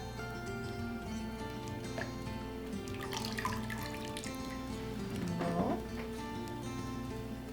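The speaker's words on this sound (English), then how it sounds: "And then you're going to dip it in the cold water." A wet-felted wool egg is dipped in cold water: soft splashing and trickling with a few drips and sloshes, quiet and close, louder near the middle and end, with no voices.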